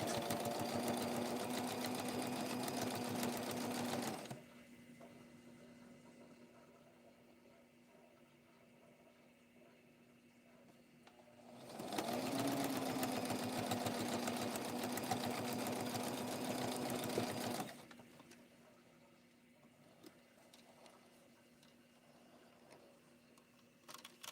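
A sewing machine stitches ribbon onto a cloth doll dress, running in two steady whirring stretches of several seconds each, separated and followed by quieter pauses.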